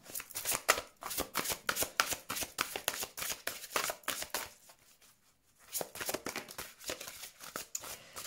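Oracle cards of a unicorn deck are shuffled by hand in close, rhythmic bursts of papery riffling and slapping, pausing briefly midway before the shuffling resumes.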